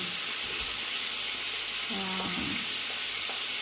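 Garlic and onion sizzling steadily in a hot pan, a loud broadband frying hiss filling the whole clip with a brief low stirring clatter in the middle.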